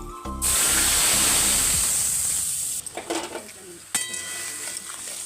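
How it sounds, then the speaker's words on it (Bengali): Soaked spice paste for a Bengali vegetarian taro curry hits hot oil with a loud, sudden sizzle that hisses steadily and slowly fades, followed by a few clanks of a spoon against the pan. "আমি যে মশলাটা আগে থেকে ভিজিয়েছিলাম সেই মশলাটা এবার দিয়ে দিচ্ছি"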